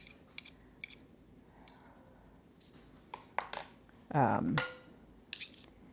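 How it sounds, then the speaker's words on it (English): Small metal spoons clink and scrape against a plate while deviled egg filling is spooned into egg white halves, scattered faint taps and one louder scrape, quiet and close with no talking. "we're just going to use these little spoons and spoon it into the cavity"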